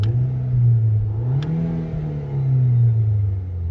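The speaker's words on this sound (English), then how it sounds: "Let me give it a very quick rev." Warm VW Golf GTI Mk5 2.0T FSI with a six-speed manual, 2006, revved briefly: a loud, close engine drone that rises, eases back and climbs again, with no talking.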